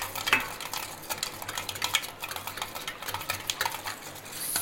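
Spoon stirring a cold coffee mixture with custard powder in a cup or bowl, a close series of irregular clinks and scrapes against the container, with no talking.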